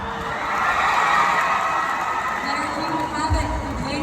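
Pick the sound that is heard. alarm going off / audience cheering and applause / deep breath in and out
audience cheering and applause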